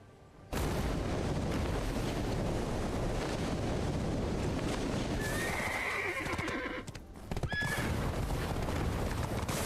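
A video game horse neighs loudly twice over steady clip-clopping hoofbeats and a constant wind-like hiss, with no one talking.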